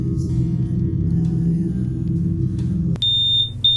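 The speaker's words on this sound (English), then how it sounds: "shocked out of his trance by the blaring of a fire alarm" A fire alarm sounds as a high, steady electronic tone that starts abruptly partway through, cutting in over a low droning music bed and continuing with brief pulses to the end.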